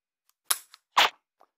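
Two sharp metallic clacks about half a second apart as the bolt of an AR9 carbine is charged during indoor laser dry-fire training, close and crisp in a quiet room.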